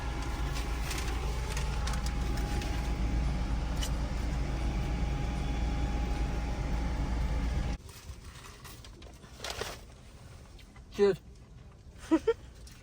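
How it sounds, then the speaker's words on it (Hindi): Steady road traffic rumbles near a busy mall, with engines and passing vehicles droning continuously, then cutting off abruptly to a quieter scene with a few brief, sharp knocks. "इतना ट्रैफिक हो रहा है, पार्किंग ही नहीं है मॉल में।"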